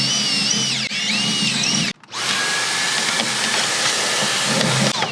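A power drill bores a hole out to size in a classic Bronco roll cage, a steady high whine that stops briefly and then resumes, loud and close with no talk.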